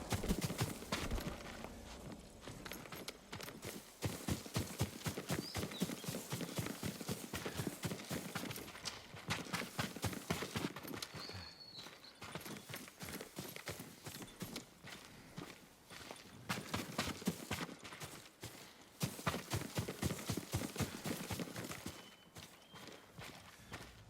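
Steady clip-clop of horse hooves walking at an even pace, close and clear over a quiet game ambience in Ghost of Tsushima, continuing throughout.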